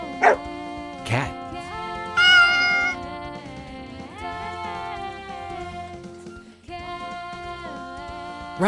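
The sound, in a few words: cat meowing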